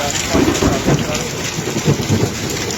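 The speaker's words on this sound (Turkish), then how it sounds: "belki duyarsınız nasıl gürler" Heavy rain and hail pour steadily while low rumbles of thunder roll through, loud and close, with no one speaking.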